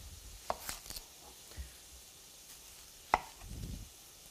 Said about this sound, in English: Next, I'm going to cut up an onion.